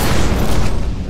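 Gunfire from The Secret World, a dense, loud wash of booming shots and bursts packed into a second, with no clear gaps between reports.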